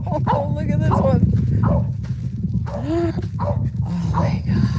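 A dog barks, yips and whimpers in short bursts during a major storm, loud and close, with excited voices talking over it.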